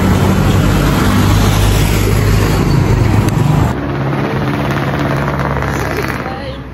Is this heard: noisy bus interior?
yes